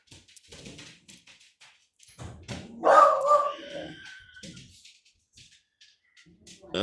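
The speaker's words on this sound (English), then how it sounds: "This dog over here having a fit." A dog barks and yips indoors in a short excited burst, fairly close and loud, between stretches of a person talking.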